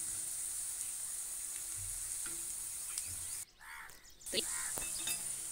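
Onion bhajis sizzle hard in hot oil over a high flame, a dense continuous crackle that dips briefly midway before resuming with a few faint clinks.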